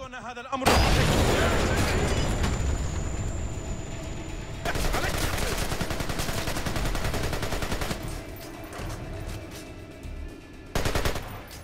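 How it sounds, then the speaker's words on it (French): A grenade goes off at the player's feet in Splinter Cell Conviction: a sudden loud blast, then a long dense roar of gunfire and rumble that eases near the end before one last burst. "je vais démontrer une fois de plus mon manque de skill en lançant une grenade à mes pieds"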